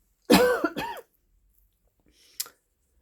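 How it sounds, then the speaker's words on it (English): Two sharp coughs in quick succession, close and loud, followed by a pause and a brief throat-clearing sound. "Excuse me while I cough."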